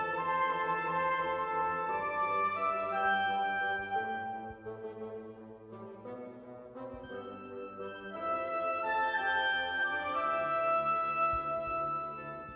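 Orchestral passage from the Beyond Skyrim: Morrowind main theme featuring four flutes in a sustained, layered melodic line over strings and brass, with a brief thinning around the middle before the full texture swells back.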